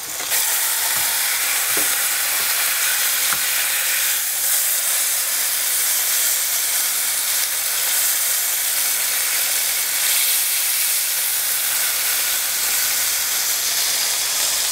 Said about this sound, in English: We got the sizzle still going.